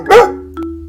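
A single sharp dog bark, loud and close, followed by a brief sustained tonal ring.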